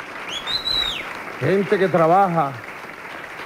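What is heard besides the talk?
applause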